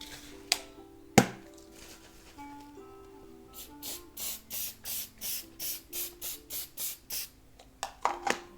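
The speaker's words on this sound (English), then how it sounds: "And then give it a final spray." An aerosol can of final fixative spray hisses in about ten quick, evenly spaced sprays over a PanPastel landscape after a couple of sharp clicks, fairly close and with no talking.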